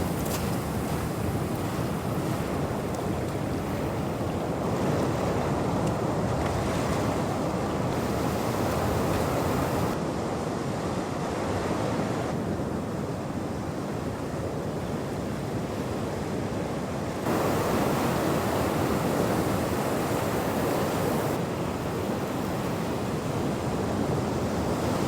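Ocean waves wash steadily against a rocky coastal tide pool while wind buffets the microphone, a loud continuous roar with no voices across the whole stretch.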